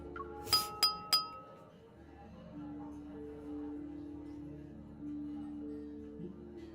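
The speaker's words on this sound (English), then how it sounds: "the crisp sound of the clinking glasses captures everyone's attention" Wine glasses clink at a banquet in the Love & Deepspace video game: three crisp, ringing taps in quick succession, followed by soft background music.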